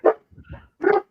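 Several dogs barking in a room during a live podcast show, two loud bark bursts with softer yips between, no talk over them.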